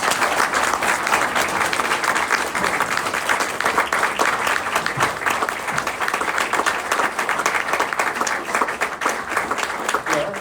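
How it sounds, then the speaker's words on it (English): Dense, sustained applause from an audience welcoming Martin Luther King III, many hands clapping evenly and loudly throughout with no break. "Can we please welcome Mr. King with a round of applause?"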